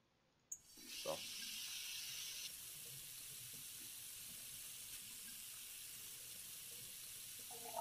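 Steady water running from a tap in the video game Cooking Simulator while potatoes and trout are prepared, a continuous close hiss that starts abruptly and holds evenly throughout.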